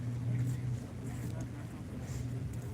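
Engine of a motorized flat raft on the water off a South Florida inlet and park, a steady low droning hum with wind buffeting the microphone, continuous and moderately close, with faint voices mixed in.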